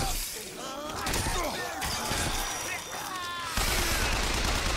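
Gunfire bursts from the video game BioShock Infinite, loud and dense with cracking shots and crashing impacts over roughly five seconds, amid chaotic combat noise.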